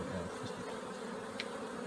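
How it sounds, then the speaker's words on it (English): A swarm of honeybees buzzing around the back of a truck outdoors, a faint continuous hum with a few louder passes as bees fly close. "We got bees swarming around the back of my truck here, see?"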